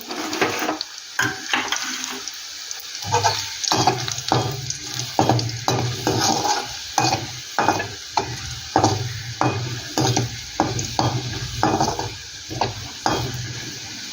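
Garlic frying in a pan with steady sizzling oil and rhythmic, regular scraping strokes of a spatula stirring it, close up and without any voices.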